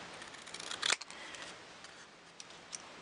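Scissors snip through paper being cut into a flag shape, with a few quiet, close crunching cuts clustered early, then faint ticks and light rustling against a soft background hiss.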